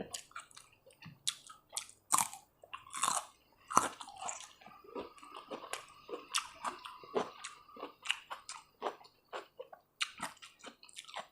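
Close crunchy chewing and biting of spicy Isan-style raw pork koi salad, repeated wet mouthfuls in an irregular rhythm, nearby and clear with no talking.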